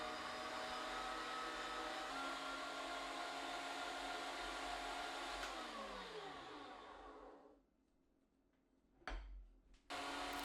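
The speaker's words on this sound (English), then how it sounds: "If you overload it, you can get meat that does not grind properly or overheats." An electric meat grinder runs steadily with a loud, continuous motor whine and grinding noise, then winds down and cuts off, followed by a couple of short knocks.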